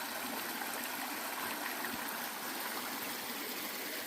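A small stream runs through a trail water crossing on the Appalachian Trail, a steady, close trickling and babbling flow that holds even and unbroken from start to finish, with no voices over it.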